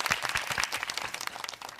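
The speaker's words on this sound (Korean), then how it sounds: "박수." A small audience at a Korean corporate talk on EV prospects claps in congratulation, with a few distinct close, loud hand claps at the start settling into a quicker, lighter ripple of applause.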